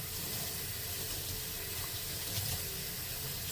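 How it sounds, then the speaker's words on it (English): Italian parsley rinsed under a running kitchen tap: a steady, moderately quiet stream of water splashing over the leaves into a sink, continuous with no talking. "So I'll rinse this off."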